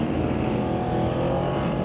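Drag race cars launch down the strip at Mission Raceway during an ET series race, producing a loud, sustained engine roar that holds steady throughout without pause.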